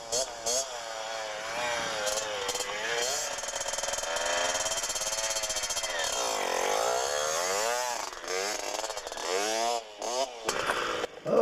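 A motorcycle engine idles and revs during clutch practice by a new rider, its pitch rising and falling in smooth sweeps at close range, with a voice talking at times over it.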